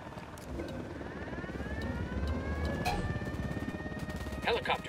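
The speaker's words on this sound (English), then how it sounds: "Helicopter, get down." In the video game Ghost Recon Wildlands, a helicopter's rotor throb builds steadily as it approaches, with voices talking over it.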